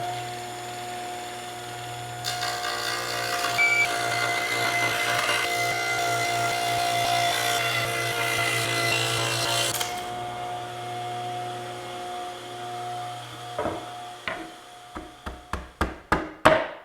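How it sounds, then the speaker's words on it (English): Power saw cutting a dado in wood for a chicken coop build, a steady whine and hum for several seconds that cuts off, followed by a series of quick sharp knocks growing louder toward the end. "That'll give me one edge of the dado, then take that out and put in my kerf piece. That gives me the other edge, and then I mill out everything in between"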